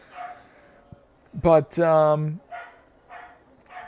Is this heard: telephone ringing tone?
no